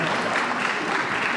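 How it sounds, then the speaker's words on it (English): A brief burst of dense crowd applause at an outdoor civic ceremony in Roxbury, Boston, steady clapping filling the moment with a faint voice mixed in. "Can we give another round of applause for Lieutenant Governor Driscoll"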